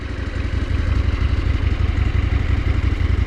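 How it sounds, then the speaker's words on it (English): A 2019 KTM 790 Adventure R motorcycle engine idles with a steady, clattering rattle, loud and close, running continuously with no voices. "At Idaho, it sounds like a jar of bolts and screws being shaken"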